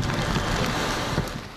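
Strong typhoon wind roars at Heng Fa Chuen on the Hong Kong shoreline while heavy swells break against the shore, a steady, loud broadband rush with no voices.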